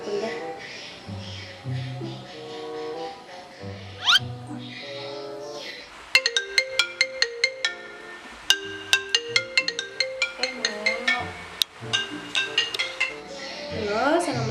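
Phone ringtone in a home playing a repeating electronic melody, with bright chiming notes growing denser and louder toward the end.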